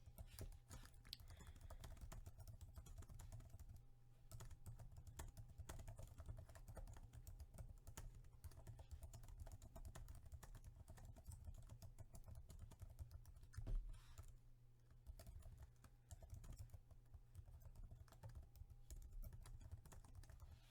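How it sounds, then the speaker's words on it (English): Continuous rapid typing on a computer keyboard, close and steady, with dense clicking keystrokes filling the whole stretch and only brief pauses. "now that my message is typed"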